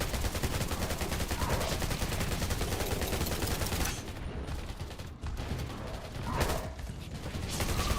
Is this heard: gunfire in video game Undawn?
yes